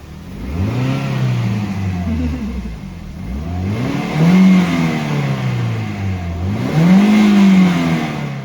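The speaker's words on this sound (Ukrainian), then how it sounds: "чоловік попросив потримати машину на оборотах, щоб краще зарядився акумулятор" A parked car's engine held at high revs to charge the battery, rising and falling in repeated surges with a droning whir, loud and close, at a campsite on the Kremenchuk Reservoir.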